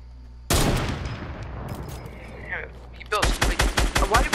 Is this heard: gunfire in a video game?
yes